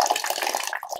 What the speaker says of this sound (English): In the province, be prepared to shower in very cold water.